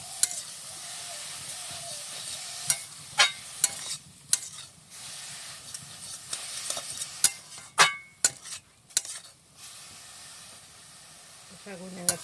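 Kaloi greens with prawns stirred in a hot pan, a soft steady sizzle and steam hiss broken by sharp spatula clacks and scrapes at irregular intervals, close by and without talking.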